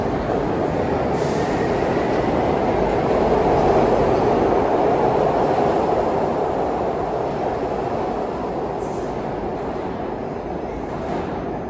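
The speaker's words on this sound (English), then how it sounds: "here comes a B2 Express from Walnut Locust to Fern Rock" A Broad Street Subway B2 Express train rolls into an underground station with a loud sustained rumble, brief high wheel squeals near the start and end, and no talking.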